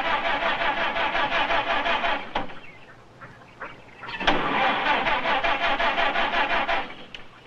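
Car engine cranking repeatedly with a rapid, strained starter whir, stalling briefly in the middle before cranking again, loud and close, sounding sickly.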